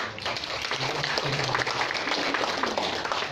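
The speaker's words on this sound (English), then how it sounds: "let us give Dr. G. Kim Kang another round of applause." A conference audience applauds a speaker with a sustained, dense round of clapping heard from within the hall, steady throughout, while a low voice murmurs faintly underneath.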